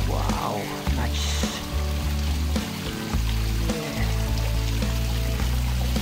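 Water pours and splashes down a built grotto waterfall of natural pebbles, a close, steady trickling rush with uneven gurgles throughout.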